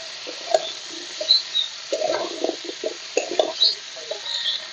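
Jackfruit seeds, potato and kotowa stems from a home garden stirred in a pan, a series of close spoon scrapes and clatters over a faint sizzle.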